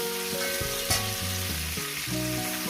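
Onions fry in a pan with a constant broadband sizzle while stepped, tonal background music plays over it; no one speaks.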